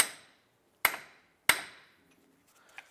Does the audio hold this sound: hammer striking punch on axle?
yes